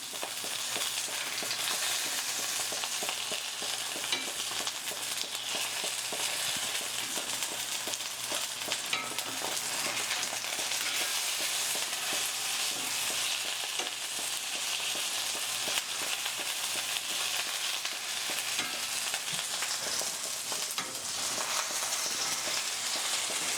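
Soy-glazed salmon fries in a skillet over uneven heat, making a loud, dense, unbroken sizzle with fine crackling throughout.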